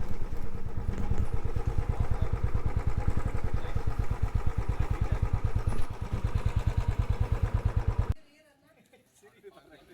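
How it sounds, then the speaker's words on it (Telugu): A motorcycle engine runs with a steady, loud pulsing rumble while being parked on a road at Tirumala, then it cuts off near the end, leaving quiet background. "బైక్ ఇక్కడ ఎక్కడైనా పార్క్ చేసి మనం డైరెక్ట్గా వెళ్ళిపోదాం అక్కడికి"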